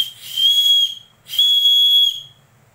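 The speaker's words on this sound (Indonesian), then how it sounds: "Ini ada peluit, tapi kayak mainan peluitnya ya." A shrill, high, toy-like whistle from a Gerber Ultimate Pro survival knife is blown twice in steady blasts, each lasting under a second, with a short gap between them.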